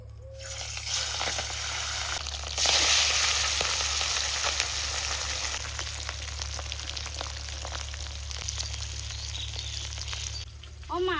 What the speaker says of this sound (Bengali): মাছগুলো এখন গরম তেলে এক এক করে ছেড়ে দিই